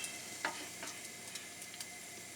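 Strip bacon frying in a pan, a quiet steady sizzle broken by small crackles and pops, heard alone without speech.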